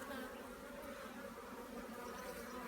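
Honey bees buzzing in an open hive during a spring inspection, a dense continuous drone of many wings heard close up with no talking.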